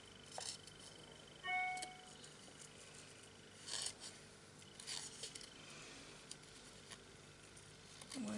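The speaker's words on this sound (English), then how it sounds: "now we need to cut all of these little bits of tree out, so very, very roughly" Scissors snip roughly around small printed paper tree shapes, giving soft, sparse cuts and rustles of paper, fairly quiet and close, with brief pauses between strokes.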